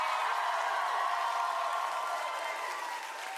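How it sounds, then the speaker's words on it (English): Sustained applause from a concert audience in Chicago, a dense, even wash of clapping and crowd noise that holds steady and eases slightly at the end. "let's give a round of applause to them for us"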